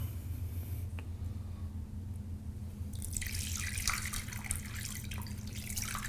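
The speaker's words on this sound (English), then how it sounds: "So I'm going to pour a cup out." Raw kombucha pours into a cup, a quiet watery splashing stream that starts partway through over a low steady hum, after a hushed lead-in.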